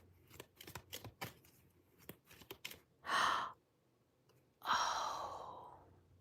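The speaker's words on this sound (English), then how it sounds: "I'm sitting here trying to clarify with these cards, and I'm shuffling" A deck of tarot cards riffles and snaps in a quick run of crisp shuffles, followed by two longer whooshing sweeps that sound like exhales or bridging of the deck, close and clear.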